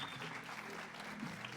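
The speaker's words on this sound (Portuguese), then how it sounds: "Por favor, uma salva de palmas." Audience applause at an innovation ecosystem kickoff event as speakers are called to the stage, a steady wash of clapping held at moderate level for the whole moment, with a faint voice underneath.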